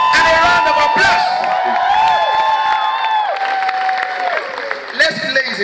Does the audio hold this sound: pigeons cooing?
no